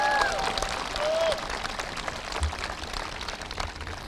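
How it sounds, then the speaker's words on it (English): A high school commencement audience applauds, a continuous, moderately loud patter of clapping in a large space with a few high whoops at the start, steady for about four seconds. "Please, a round of applause for them."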